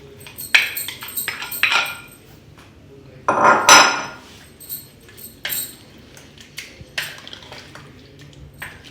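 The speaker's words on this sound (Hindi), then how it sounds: "इसको अच्छे से मिक्स करके अब हम इसमें आलू शामिल करेंगे" A spoon clinks and scrapes against a bowl while mixing salt into a creamy curd mixture for dahi bhalle, in several bursts of metallic clatter separated by quieter stirring, close and with no talking.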